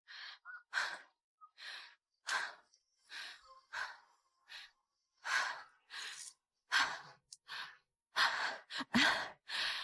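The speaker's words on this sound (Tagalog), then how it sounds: "Hingal na hingal ka na." Heavy, rapid panting from a woman worn out after hauling a heavy load of rice at a market, with repeated loud gasping breaths and sighs in close succession, alone.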